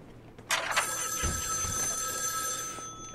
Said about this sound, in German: Oh, jetzt geht's schon los mit dem Telefon.